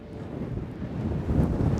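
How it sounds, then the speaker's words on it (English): Strong wind in Warrnambool buffets the microphone in a constant low roar that swells slightly toward the end, with no voices. "Welcome to Windy Warrnambool."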